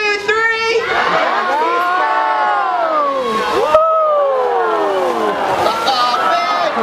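A crowd of children and adults at a zoo show in Taronga Zoo shouts a two-word call together, loud, sustained and close, the group voice rising and falling in unison.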